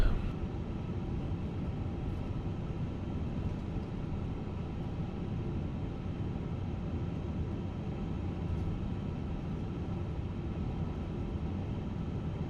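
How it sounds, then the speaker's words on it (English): Steady, broadband roar of Airbus A350-1000 jet engines at flex takeoff thrust in a flight simulator, a constant even rumble lasting throughout with no talk over it. "So we're doing a flex takeoff today."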